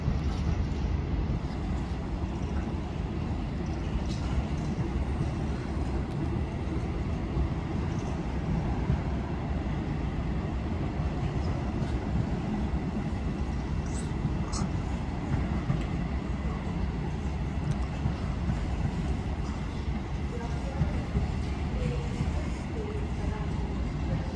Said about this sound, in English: That broken freight train is finally moving.